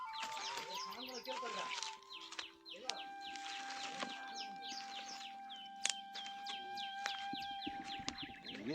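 Chickens cluck and a rooster calls on a farm, with many short, overlapping bird calls repeating steadily under people talking nearby.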